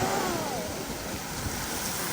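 Geyser in Iceland bubbling and surging, heard as a steady, loud, broadband watery rush mixed with wind noise throughout, with no talk.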